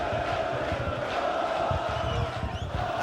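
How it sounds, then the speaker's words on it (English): At a fight between Yavuz Ozden and Cheick Sedibe, an arena crowd roars and chants like soccer fans. The sound is a dense, steady wall of voices, rising and falling slightly, heard from within the crowd. "It sounds like a soccer crowd here."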